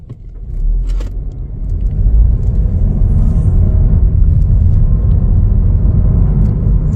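A 2024 Chevrolet Trailblazer AWD engine rumbles and builds as it accelerates, with a steady low roar and slight shifts in pitch as it pulls away and shifts gears.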